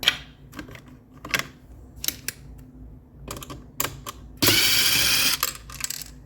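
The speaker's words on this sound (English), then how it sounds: "Take the screw out." Small mechanical clicks and ticks from a screwdriver turning out the hidden screw on a Keurig K-Supreme coffee maker panel. They come as scattered close taps, with one brief louder rasping burst near the end.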